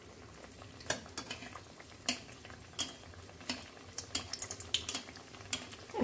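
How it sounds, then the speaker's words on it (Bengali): Vetki fish fry pieces crackling and sputtering in hot oil in a wok, with sharp irregular pops and sizzles over a low steady hiss, close and moderately loud, no talking. "এবার আমি ফিশ ফ্রাইটা ভাজতে দিয়ে দেবো।"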